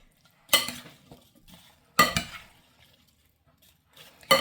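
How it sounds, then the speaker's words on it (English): Fruit salad gently mixed in a bowl, heard as three separate soft clattering stirs spaced about a second and a half apart, close and quiet with near silence between them. "I'm just going to give that a gentle mix here and add our dressing"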